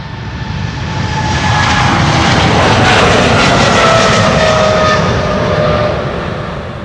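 Turkish Airlines airliner departing Amsterdam Schiphol, its engines roaring in a broad wash that swells to a peak midway and slowly fades, loud and continuous with no voices.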